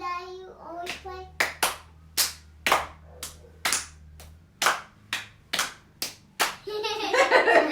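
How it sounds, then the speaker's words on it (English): A group of people clap in a children's chemistry demonstration, about a dozen sharp separate claps in a loose, irregular rhythm, then a burst of overlapping applause and voices at the end. "Let's clap."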